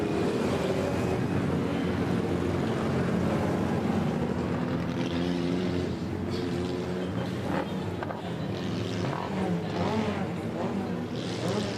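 Stock cars at a Border Stockcars meeting, a dense roar of several engines circling the track that holds steady for the whole stretch, with a commentator talking over it.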